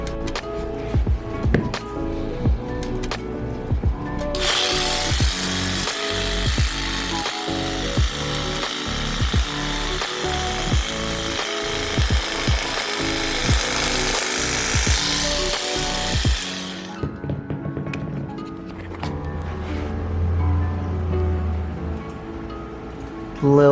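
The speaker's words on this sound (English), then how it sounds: "we're going to take the sheep shears and basically trim this down" Sheep shears trimming the surface of a handmade rug: steady, dense cutting and snipping texture that runs loud and continuous for about twelve seconds, then gives way to quieter handling noises and a low hum.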